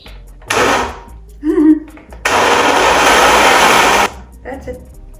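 A kitchen blender whirring through a banana and blueberry smoothie, a loud steady motor roar for about two seconds after a short earlier burst, with a quiet voice speaking briefly around it.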